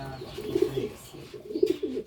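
In a breeding loft, pigeons give soft rolling coos in two clear bursts, close by and fairly distinct, with little else around them.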